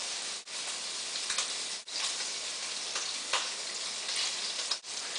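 Olive oil and butter sizzle in a pan with breakfast potatoes, a steady close crackling hiss with brief dips and a few louder pops, no talk.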